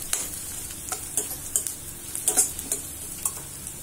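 Onions sautéing in a pan for a paneer capsicum gravy, a constant sizzle broken by a run of quick spatula taps and scrapes against the pan, heard up close.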